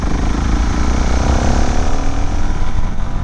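Steady, loud engine drone from a 2025 Suzuki DRZ4SM motorcycle pulling under throttle in a higher gear, a continuous close rumble with a slowly rising tone and no talking.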